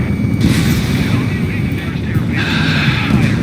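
Anti-aircraft guns fire in the Ace Combat 7 video game on PS4, a loud dense rumble of continuous flak bursts and booms with faint voices underneath.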